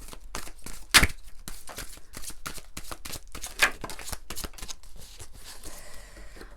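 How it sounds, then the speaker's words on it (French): Oracle cards being shuffled and drawn from a deck, a steady run of soft, rapid card flicks and riffles close by, with a couple of sharper snaps standing out near the start, heard alone without talk. "Je voulais quand même juste prendre une ou 2 cartes de l'oracle des sons de l'âme."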